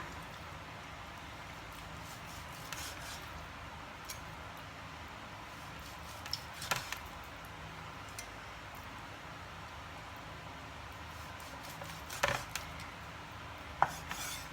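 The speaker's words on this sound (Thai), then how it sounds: "การหั่นเราก็หั่นตามตามริ้วเส้นของหมูอะค่ะ" A knife slicing pork along the grain makes faint, sparse taps and slicing clicks against a board, scattered over a quiet background hiss.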